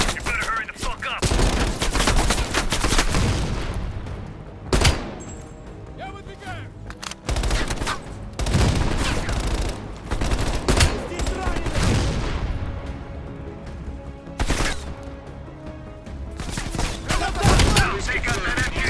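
Gunfire in a 1981 Cold War video game mission on the Solovetsky Islands, with repeated loud bursts of shooting and booms across the whole stretch and no speech.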